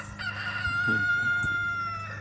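A rooster crows among chickens being fed leftover food, a loud drawn-out call close by with a few clucks and faint background noise.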